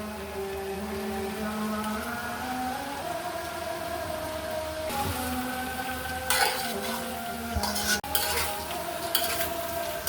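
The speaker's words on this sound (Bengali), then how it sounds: "ভালো করে একটু নেড়ে চেড়ে দিতে হবে।" Vegetable pasta with coriander leaves is stirred in a pan over a soft, constant sizzle, with scraping strokes and a few louder clinks of the utensil against the pan near the end.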